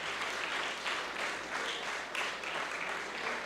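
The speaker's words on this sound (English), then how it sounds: "we give the fathers a round of applause" An audience applauds fathers during Prime Minister Timothy Harris's speech, with steady, dense clapping from many hands that holds at an even level throughout, with no voices over it.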